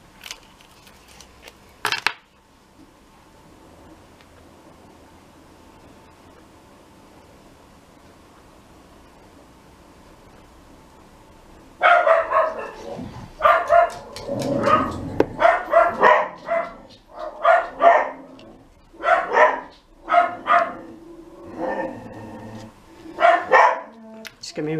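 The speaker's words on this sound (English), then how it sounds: "Just give me a wee second to shut that door again so we don't need to hear Daisy Dog down." A dog barks behind a door, a run of repeated muffled barks in the second half following a long quiet stretch, with some voice mixed in.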